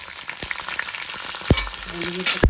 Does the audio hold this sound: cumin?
yes